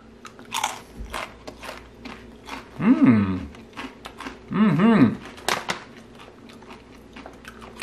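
Guacamole-flavored avocado crisps crunch under close, loud bites and chewing, several sharp crisp snaps and two stronger crunching bursts, with a brief murmur of appreciation from the eater.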